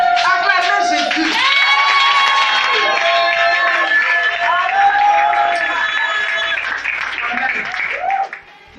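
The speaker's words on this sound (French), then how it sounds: "Acclamez Jésus" A church congregation cheers and applauds for Jesus: loud, sustained crowd shouting, whoops and clapping in a reverberant hall, steady for several seconds before fading.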